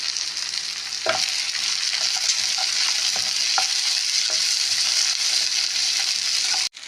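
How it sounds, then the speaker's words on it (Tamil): Cashew nuts sautéing with softened tomatoes in a pan for an egg gravy, a steady close sizzle with repeated spatula scrapes and taps every second or so, no talk. "தக்காளி வதங்கியவுடன் ஒரு 10-12 முந்திரி பருப்பை சேர்த்து வதக்கவும்."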